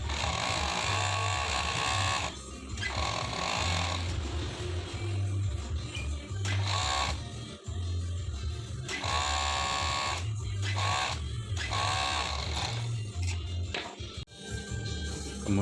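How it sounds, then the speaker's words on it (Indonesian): An overlock sewing machine serges the fabric of a gamis, a close, loud buzzing whir in repeated bursts separated by brief pauses, with a voice speaking between runs. "Kemudian kita obras ya teman-teman."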